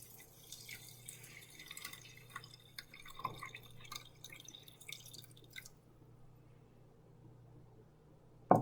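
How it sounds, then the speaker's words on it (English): Water poured over the ingredients for Si Wu Gao drips and trickles quietly for about five seconds, then stops, leaving near silence before a short knock at the end. "Let's see how this looks when we put the water on it."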